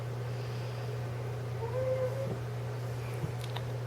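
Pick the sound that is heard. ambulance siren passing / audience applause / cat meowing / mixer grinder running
cat meowing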